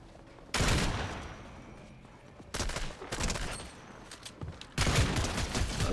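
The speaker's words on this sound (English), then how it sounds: "somebody's shooting at me" Video game gunfire comes in three loud bursts of rapid shots, each a sustained crackling volley followed by quieter gaps.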